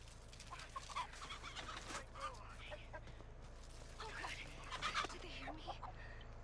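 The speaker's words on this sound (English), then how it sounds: "you do realize there's turkeys here?" Turkeys cluck and gobble in The Texas Chainsaw Massacre video game, a scatter of close, bursty calls over a low hum, with players talking throughout.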